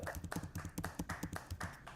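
Clapping emote in the Spatial metaverse app, a quick, steady run of crisp synthetic hand claps, evenly spaced and close, with no talking over it.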